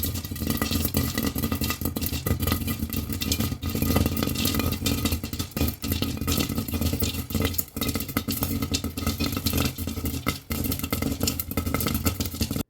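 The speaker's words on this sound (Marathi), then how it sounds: "लाया फुटतानाचा आवाज बघा कसा येतो एकदम फटाके फुटल्यासारखा" Jowar (sorghum) grains popping in a covered pan, a dense, continuous crackle of sharp pops like small firecrackers, loud and close throughout with occasional rattling of the pan.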